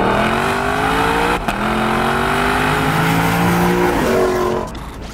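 A 2024 Lexus LC500 launching from a standstill under full throttle, its engine roaring loud and close as the pitch climbs through the gears, with short breaks at each shift before it eases off.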